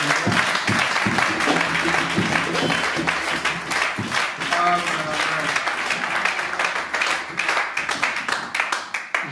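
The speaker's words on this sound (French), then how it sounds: "Donne un peu des acclamations" A church audience at a pastor's service claps and cheers, with many sharp, crowded claps and shouting voices rising in the middle, loud and lively throughout.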